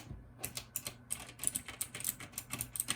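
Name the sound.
typing on a Logitech G513 keyboard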